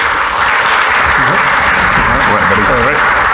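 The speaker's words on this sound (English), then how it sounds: "Let's give him a round of applause" Loud, continuous audience applause in a church service, with voices and cheering mixed in, as a young high school leader is welcomed onto the stage.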